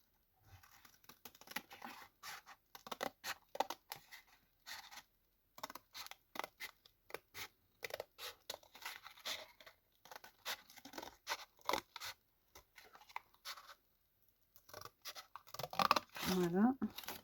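Scissors cutting a strip of material, a series of faint close snips and crisp scraping cuts with quiet pauses between them, under intermittent talking.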